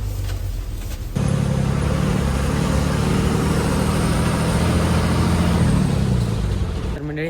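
A state transport bus engine rumbles at a bus stand, a loud steady low drone that starts abruptly after a second and continues close by, with a public address announcement heard over it.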